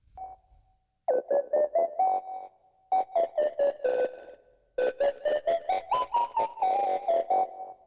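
Lead synth through the Kilohearts Snap Heap saturation module plays a punchy melodic line of rapid staccato notes in three phrases, warm and slightly buzzy, loud and unaccompanied.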